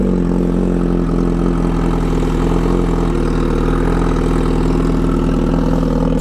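An MV Agusta Brutale 1000 RR motorcycle engine idles close by, a loud, steady, even rumble that continues unbroken throughout.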